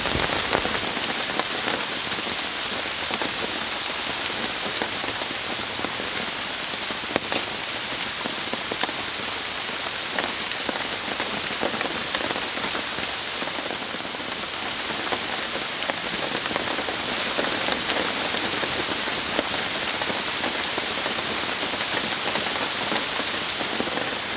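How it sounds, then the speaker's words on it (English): Steady heavy rain pours onto a tent at a campsite, a dense continuous patter that holds loud and even throughout with no voices. "Right now, the rain is just simply coming down"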